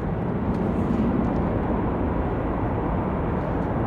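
Airliner at Chicago O'Hare airport roaring at takeoff power at night, a steady broadband rumble of jet engines, constant and fairly loud throughout.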